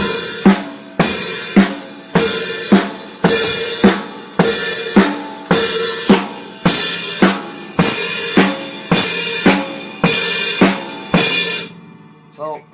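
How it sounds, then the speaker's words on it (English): Drum kit blast beat played slowly, about twenty evenly spaced loud hits alternating cymbal-washed snare and kick strokes with ringing decay, close and dry with no talking, ending abruptly. "So this is how a normal blast beat sounds like slowed down."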